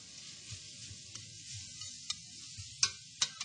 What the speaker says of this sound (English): we're going to let that saute up in there with the meat